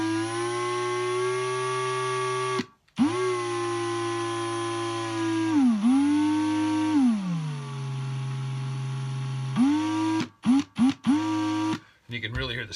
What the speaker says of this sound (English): It's the drill that's dying, not the battery.